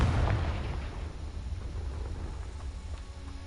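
A blasting spell explodes in the Hogwarts Legacy video game, a deep booming burst that is loudest at the start and then rolls into a sustained low rumble that fades slowly.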